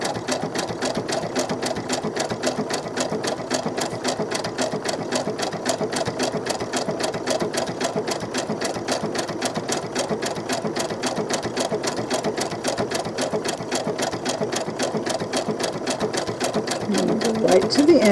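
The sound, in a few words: sewing machine sewing seams on doll clothes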